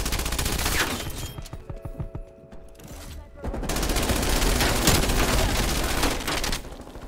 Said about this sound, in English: Dude, that strafe run is OP.